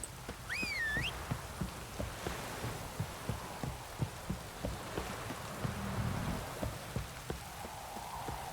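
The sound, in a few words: rain falling in The Witcher 3 video game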